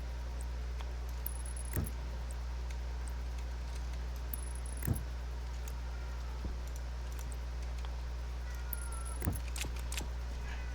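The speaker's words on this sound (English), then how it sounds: "Hello, Hunter Kitty" A house cat gives a few short, faint meows spaced several seconds apart, sitting over a steady low electrical hum and soft computer game sounds while a game of Stationeers plays.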